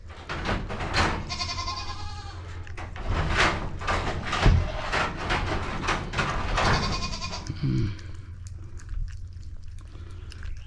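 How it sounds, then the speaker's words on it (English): Farm goats bleating loudly and repeatedly for their hay in a barn, several close, insistent calls overlapping in a busy run that eases off near the end. "I haven't given the goats their frickin' hay yet."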